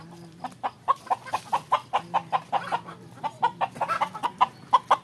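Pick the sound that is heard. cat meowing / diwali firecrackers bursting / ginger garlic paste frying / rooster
rooster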